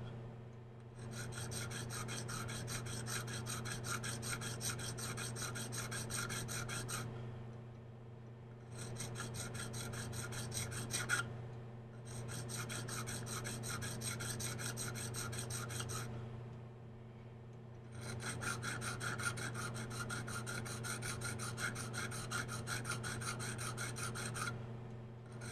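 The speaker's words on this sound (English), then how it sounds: "Just gently sharpening with the diamond." A KME tapered diamond rod hones the serrations of a knife, giving fine, quiet rasping strokes in long rapid runs separated by short pauses, heard up close.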